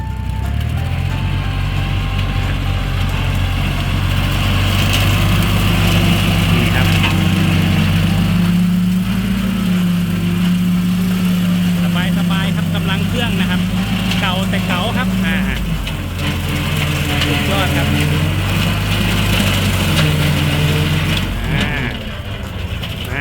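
Kubota tractor engine running steadily while mowing grass, a loud continuous low drone with mechanical rattling and shifts in load.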